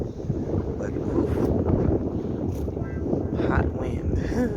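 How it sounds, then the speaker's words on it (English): Strong hot wind in Mbour, Senegal buffets the microphone with a constant low roar, while a voice speaks underneath, partly masked by the gusts. "It's very windy, so if you don't hear me that well, that's why"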